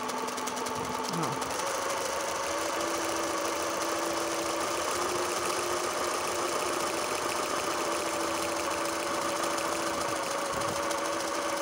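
A sewing machine runs fast and steadily while stitching a freehand satin scallop edge without a hoop, producing a close, continuous buzzing hum of rapid needle strokes throughout.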